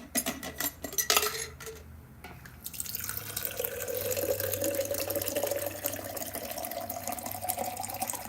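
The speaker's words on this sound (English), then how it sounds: "content maker puts the water dispenser right by their camera?" A water dispenser runs right beside the microphone, a close, steady pour and trickle that follows a few sharp clinks and handling knocks at the start.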